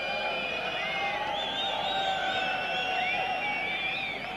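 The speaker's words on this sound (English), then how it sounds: "The crowd like the round" A 1994 kickboxing match crowd cheers and whoops continuously from a distance, a steady roar of voices with rising shouts layered through the arena.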